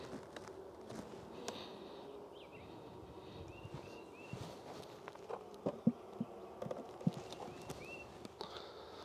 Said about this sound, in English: there's a lot of bees in that box